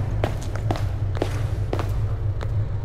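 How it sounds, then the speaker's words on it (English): Footsteps in the horror game Slender: The Arrival (Remastered): six or so dull, evenly spaced steps over a steady low ambient drone, moderately close, with no talking. "Those are footsteps."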